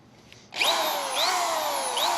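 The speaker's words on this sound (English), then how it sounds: "That's a pretty big drill right there." An electric drill drawing about 400 watts from a 3,000W digital power inverter whirs up to speed and runs steadily at a loud, close, high-pitched whine, its pitch dipping and rising slightly under load.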